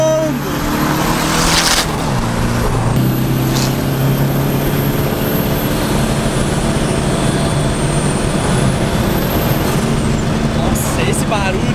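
A turbocharged 1.9-litre engine in a modified VW Beetle (Fusca) on Porsche wheels roars loudly and continuously on the road, with rising whines and shifting tones.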